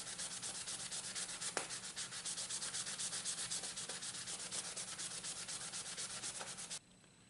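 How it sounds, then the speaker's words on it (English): Steady, rhythmic rasping of a 150-grit sanding block scrubbed back and forth over the brass of a knife, close up, for several seconds before stopping abruptly. "I'm going to use a 150 block here, and that'll get rid of some of these rough scratches on the brass."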